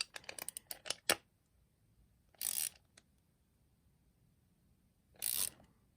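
Tekton 1/4-inch drive torque wrench ratcheting a bolt into a tapped hole in scrap MDF, with a quick run of sharp, close clicks followed by two separate short bursts of ratcheting.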